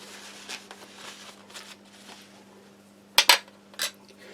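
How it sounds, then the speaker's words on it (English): Spoon being rinsed off at a sink while taste-testing a French army ration, with faint running water and a few sharp metallic clinks of cutlery against a dish, close and quiet. "I'll just rinse that spoon off"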